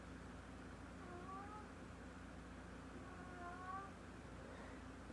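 Several house cats meowing and squabbling in slow, drawn-out calls, two faint wavering yowls rising and falling in the background of a quiet room.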